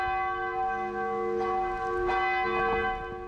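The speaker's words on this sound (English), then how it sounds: "the bells tolled for Van Nguyen" Church bells toll at a memorial service held a year after an execution, with steady overlapping rings and a sustained hum of resonance, loud and close with no talking.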